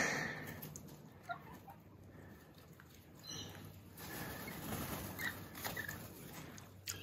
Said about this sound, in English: More parrots than you can poke a stick at.